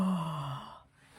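A single drawn-out human yawn, breathy and close, sinking from a voiced groan into a soft exhale with nothing else heard.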